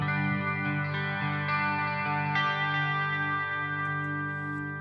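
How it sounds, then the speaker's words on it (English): A sustained electric guitar chord played through a Headrush pedalboard rings out with a sweeping, swirling flanger effect, loud and close, slowly fading with no voices. "This has a little bit of flange in it"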